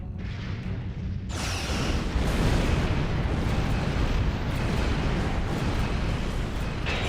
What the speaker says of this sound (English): High yield torpedoes. Fire!